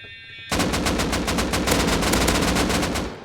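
Automatic gunfire in the game Rust bursts in suddenly as a loud, rapid string of close shots in an even rhythm, continuing for nearly three seconds.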